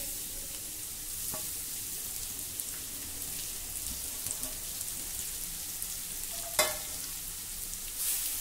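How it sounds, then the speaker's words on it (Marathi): Grated sweet potato sautéing in a pan over low gas, a soft steady sizzle with light stirring scrapes and one sharp clink near the end. "मंद गॅसवर आता आपल्याला हा व्यवस्थित परतवून घ्यायचा आहे"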